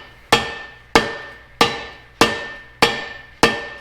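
Six sharp metallic hammer blows land at an even, unhurried pace as a part is driven into an off-road 6x6 build, each strike ringing briefly before the next.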